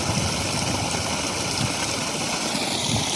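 A solar-powered well motor pumps water that shoots out about two feet and falls with strong pressure, producing a loud, steady rushing and splashing roar that continues evenly throughout with no voices.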